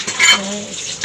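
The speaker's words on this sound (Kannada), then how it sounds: "ಓ, ಪಾತ್ರೆ ಉಜ್ತಾ ಇದ್ದೀರಾ?" Dishes being washed at a home kitchen sink, with close clinks of pots and cutlery and a brief louder clatter near the start, then quieter rattling and splashing.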